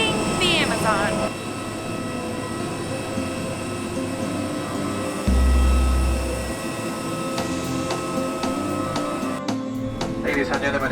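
Steady cabin drone of a LATAM Airlines airplane flying from the Amazon toward Lima, a continuous engine hum that persists throughout, with a brief deep low rumble midway and voices talking over it.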